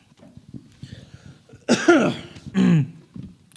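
Two short bursts of coughing from a performer on stage during a live show, one after the other, close and fairly loud over a quiet room.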